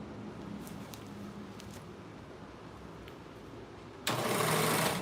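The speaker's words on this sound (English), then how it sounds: "this is the serger." Serger sewing machine, heard first as a low, steady mechanical hum, then switching on loudly near the end into a fast, dense buzzing whir, close and alone.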